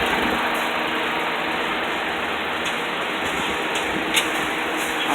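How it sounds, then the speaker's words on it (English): A 2012 Mitsubishi ASX engine idling with its AC compressor running after a regas, a steady close whirring drone with faint ticks on top. "So everything's spinning properly. Compressor is working well."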